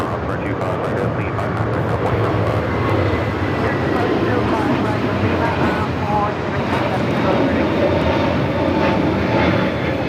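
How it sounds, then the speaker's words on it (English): Delta Airlines Airbus A321neo taking off at LAX, a steady broad jet engine roar at moderate distance that holds evenly, with a voice talking over it. "This is Delta Airlines 482 taking off to Orlando on the A321neo."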